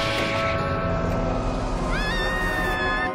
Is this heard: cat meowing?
yes